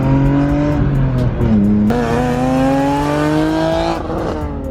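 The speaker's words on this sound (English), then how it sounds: "I was gonna do some donuts after him, but I didn't think it was gonna be that much smoke." A loud BMW E36 M3 engine revs hard with rising tones while tires squeal continuously doing donuts, sharp shifts in pitch as it spins in place.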